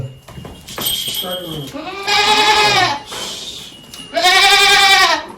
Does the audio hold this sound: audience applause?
no